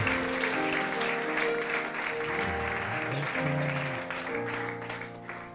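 A church congregation claps and acclaims the Lord during a Sunday service, the applause rolling on under sustained keyboard chords and gradually tapering off.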